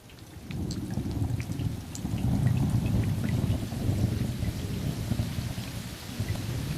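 Steady rain falls and patters into puddles, with thunder rumbling low and continuous beneath the downpour throughout, no voices present.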